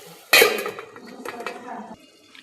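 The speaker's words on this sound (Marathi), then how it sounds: "आता आपण याला झाकण ठेवून देऊया." A metal lid set down over a pan of cooking gilki (ridge gourd) sabzi with moong dal gives one sharp clink, followed by brief rattling and settling clatter, close and fairly loud.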